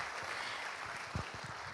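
An audience claps at an awards ceremony in Medan, a dense wash of applause throughout with a few louder individual claps standing out near the end.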